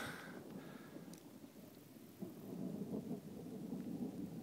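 Faint, distant thunder rumbles beneath a steady wash of rain, low and muffled throughout.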